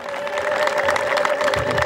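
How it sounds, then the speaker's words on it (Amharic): A church congregation at a preaching and prophecy service claps in applause, a dense steady patter of many hands with a faint sustained tone beneath, building slightly toward the end. "አጨብጭቡ ለእግዚአብሔር ክብር ይሁንለት"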